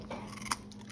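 A pet crunches an orange carrot, giving a single short, close bite-crunch over a faint background hum.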